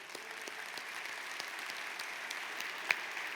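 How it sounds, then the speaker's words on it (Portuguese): A church congregation applauding during a sermon, a steady, spread-out patter of clapping that is fairly faint and distant, with no voices over it. "Então dê um aplauso ao Deus que é fiel."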